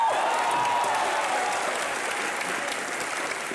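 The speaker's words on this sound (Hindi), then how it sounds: "मिस्टर इंडिया के लिए तालियां बजाएं पहले" Studio audience of a comedy TV show applauding, a broad steady wash of clapping that stays even and full for the whole stretch, with no voices over it.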